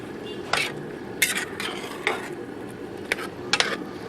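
Soaked split yellow lentils being stirred into a pot, several sharp metallic scrapes and clinks of a spoon against the pan at irregular intervals over a low background hiss, close and moderately loud, with no talking.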